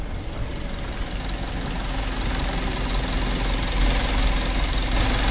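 A Mazda CX-7 engine idles steadily after being started, a close, continuous low rumble with a faint ticking knock running through it and no voices over it.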